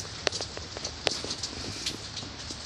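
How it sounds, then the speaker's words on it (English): Rain falling by a porch, a steady close patter with scattered sharper drips and taps landing on nearby surfaces, heard alone without voices. "It's raining."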